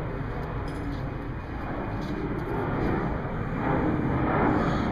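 A steady broadband roar of an airplane passing overhead, swelling slightly louder toward the end, with no voices.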